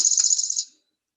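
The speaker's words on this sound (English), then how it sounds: "the chipping sparrow sure does sound like it's chipping" A chipping sparrow gives a fast, dry, mechanical trill of rapid chips, close and clear, lasting under a second before cutting to silence.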